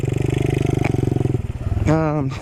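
A Honda Trail 90 motorcycle engine pulses steadily at idle-like revs, then drops as the rider downshifts, followed by a short rising rev near the end, with a voice speaking briefly over the engine.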